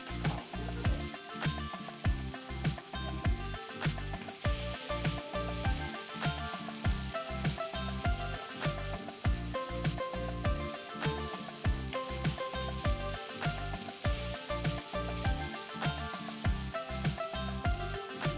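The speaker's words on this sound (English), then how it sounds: "I will add my diced onions, sliced shallots, and curry leaves one by one" Diced onions, sliced shallots and curry leaves sizzle steadily in hot oil with toasted cumin seeds while making Indian potato bonda filling, a constant crackling hiss broken by regular soft stirring knocks, close and fairly quiet with no talking.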